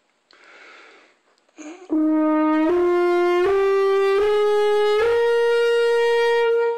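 After a quick breath, a brass horn plays the first five notes of a major scale, slow, loud and sustained, climbing stepwise, each tone held and joined smoothly to the next.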